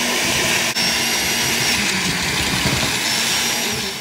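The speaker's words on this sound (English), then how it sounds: "So we'll take it off and put it in the blender." A blender purees soft cooked cauliflower, giving a loud, steady motor whir that holds for several seconds, close and alone.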